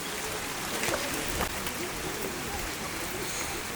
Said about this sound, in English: Full of rain now.